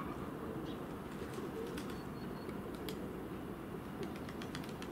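Mozdok and Leninakan pigeons fly overhead outdoors, with soft wing flutters and faint bird sounds over a constant wind-like background hiss.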